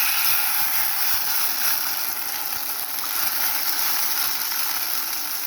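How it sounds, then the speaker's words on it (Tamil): Tamarind water is strained and poured into a curry pot of onion, tomato and garlic, making a steady, close, rushing pour that runs without pause through the whole stretch with no talking. "இப்போ நான் வந்து கரைச்சி வச்சுருக்கிற புளியை வடிகட்டி ஊற்றுறேன்"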